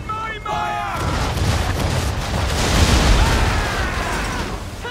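A ship's cannon broadside fires in Assassin's Creed 3: after a brief shout, a sustained, heavy roar of overlapping blasts swells and rumbles for several seconds.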